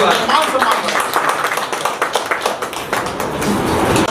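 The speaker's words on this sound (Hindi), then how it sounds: "मैं चाहूंगा एक बार जोरदार तालियां" Dense, steady applause fills the hall at a 79th Independence Day celebration, a loud continuous patter of many hands, with a voice speaking over it.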